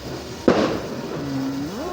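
A single firecracker goes off on New Year's Eve, a sharp nearby bang that rings briefly, followed by a quieter tonal whistle and background hum.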